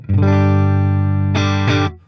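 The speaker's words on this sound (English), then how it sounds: "This is my amp, my guitar just plugged straight in." Electric guitar plugged straight into an amp and cab with no effects, a sustained chord ringing loud and steady for about two seconds, then a quick restrike near the end before it cuts off.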